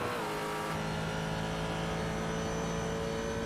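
A Ford GT race car in a sim racing game at Phillip Island gives a steady, loud engine drone with a strong tonal whine, holding a sustained pitch throughout with no talk.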